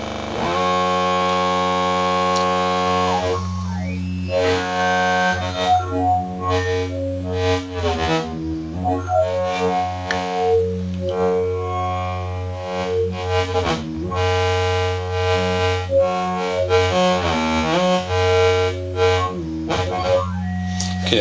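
A modular synthesizer playing Matthew Davidson's Bosch Gardens waveform ROM, producing a steady droning tone with shifting harmonic sweeps and evolving timbres, sustained for about twenty seconds without talk.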